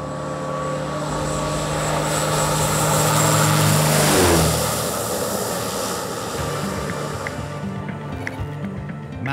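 A small propeller plane carrying a fuel delivery lands on a remote Indonesian airstrip, its engine droning loud and steady, swelling to a peak mid-landing before easing back to a lower hum as it rolls out.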